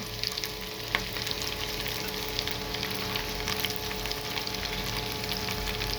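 Chopped onion, green chili, ginger and garlic fry in hot oil for a leafy greens stir-fry, giving an even, close crackling sizzle with a faint steady hum underneath and one brief clink near the start.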